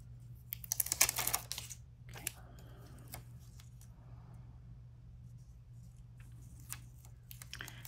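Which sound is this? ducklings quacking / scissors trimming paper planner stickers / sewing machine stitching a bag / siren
scissors trimming paper planner stickers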